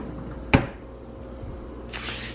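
A kitchen cupboard door in a holiday rental kitchen gives a single sharp knock as it shuts, followed a moment later by a softer hissing brush of movement; no talking.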